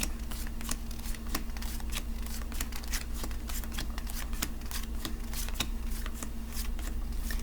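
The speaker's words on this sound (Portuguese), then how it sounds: "E então iriam pôr 1, 2, 3, 1, 2, 3, todas as cartas na mesa" Tarot cards are dealt out one by one onto a table in a fortune-telling reading, making a steady run of soft, quick card snaps and slides over a low constant hum, with no talking.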